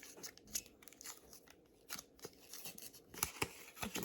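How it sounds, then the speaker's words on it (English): Sticky adhesive backing is peeled off an Octobuddy phone holder in a few irregular crackly tearing bursts, close and fairly quiet, with short pauses between pulls. "and then you just peel it"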